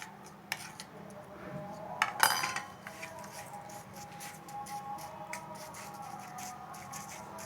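Vermicelli for a no-oven kunafa is spread and pressed into a plate, making soft rustling and scraping with a sharper clink of utensil on the dish in the middle, quiet and close.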